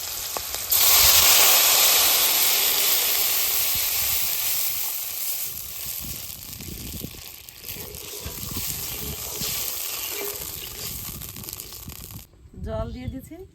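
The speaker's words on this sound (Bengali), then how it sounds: "এবার জল দিয়ে দেবো" Water poured into a hot pan of oil with bay leaf, nigella seeds and green chilli for a hilsa fish curry, giving a loud hissing gush that slowly settles into a bubbling sizzle.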